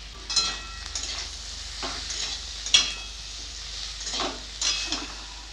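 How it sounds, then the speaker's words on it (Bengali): Spices, including Kashmiri chili, turmeric and cumin powders, fry with bitter gourd in a pan for a sea fish curry, with a series of spoon scrapes and clanks over a light sizzle, about six separate strokes. "কাশ্মীরি লঙ্কা গুঁড়ো, হলুদ গুঁড়ো, জিরা গুঁড়ো,"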